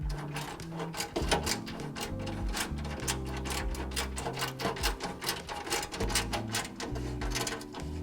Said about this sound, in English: I got my tamper-proof Torx bit once again, and let's go ahead and tighten these up.